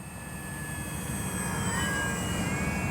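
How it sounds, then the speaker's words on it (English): An X-Fly Spitfire RC warbird model plane flies overhead, its electric motor giving a steady high whine that shifts in pitch as it passes, loud and continuous over wind and outdoor rumble, with no talking. "Good flying Spitfire."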